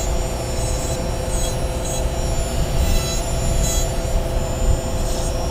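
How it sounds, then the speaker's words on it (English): Ram Shaft rotary tool with a brushless constant-torque motor running continuously, a loud steady whirring drone with a high whine and no speech. "It's a constant torque, like DC motor or something like that, brushless motor, and it has quite a bit of power."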